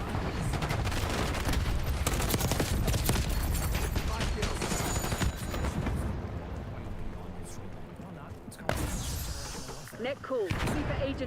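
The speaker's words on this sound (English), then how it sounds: "Hostile sentry turret active." Sustained rapid fire from a hostile sentry turret in Black Ops 6, loud close bursts over booming blasts, easing then flaring again near the end while voices talk over the battle.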